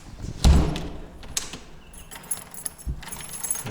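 Keys jangle in the lock of a newly fitted external house door, a brief metallic rattle near the start followed by a dull door thud and softer clinks in a quiet room.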